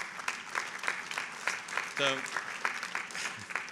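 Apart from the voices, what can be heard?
partial applause from graduation audience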